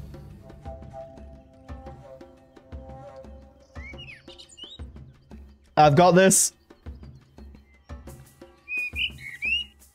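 A bird in the Copycat video game gives short whistled chirps and tweets in scattered bursts over a quiet hum, with a loud sharp squawk midway and brief speech.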